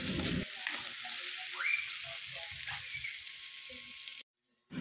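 Onions and garlic sautéing in oil for a monggo dish, a steady near hiss of frying with soft scraping stirs, cutting off abruptly near the end.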